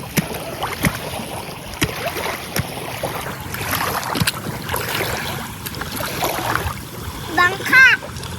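A small outrigger boat moves over the water in Quezon Province, with steady splashing and lapping close by. People, including children, chatter throughout, and a sharper splash sounds near the end.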